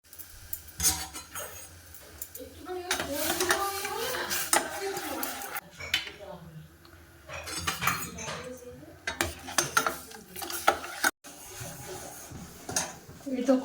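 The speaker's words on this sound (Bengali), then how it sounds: "এই তো কফি বানাচ্ছি" Spoon clinks against a cup or pot while coffee is stirred on a sunny winter morning, with scattered clatter of dishes and cutlery and people chatting nearby throughout.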